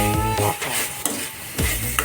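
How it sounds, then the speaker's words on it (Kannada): Pepper chicken with turmeric sizzles loudly in a hot pan while being stirred, with scraping strokes over a steady close frying hiss and music playing along. "ಫ್ರೈ ಮಾಡ್ತೀನಿ"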